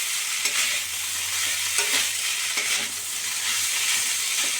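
Chopped banana stem (thor) for a Bengali dalna is stirred and fried in a pan, with a constant close sizzle broken by repeated scraping stirs.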